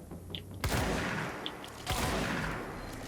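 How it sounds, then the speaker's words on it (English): Shotgun blasts in the video game Control: two loud, sharp booming shots about a second apart, each trailing off into a noisy rumbling decay. "Let's try out this shotgun"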